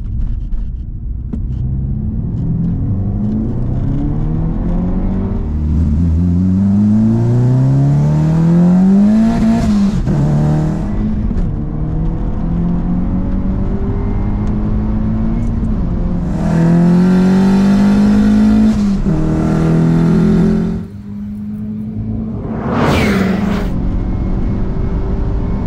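A turbocharged Fiat Uno and a 2.0T VW Polo R WRC launch side by side in a drag race, loud engines rising in pitch through several gear changes, with a brief high-pitched whine near the end.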